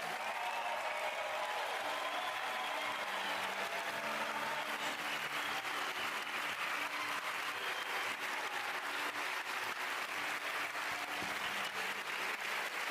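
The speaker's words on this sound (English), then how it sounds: "Please give a round of applause to Rosetta." Sustained applause from a large audience at an awards ceremony for the world's best restaurants, a steady dense wash of clapping heard at moderate distance with no talking over it.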